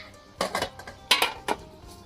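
Metal pot lid clanks shut during cooking, a few sharp rattling knocks close by with quiet pauses between them.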